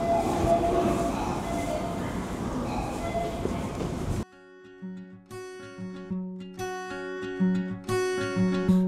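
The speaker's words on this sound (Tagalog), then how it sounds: "Ang ganda naman ng train station dito." A train rumbles loudly through a station with a dense roar for about four seconds, then stops abruptly and gives way to melodic background music.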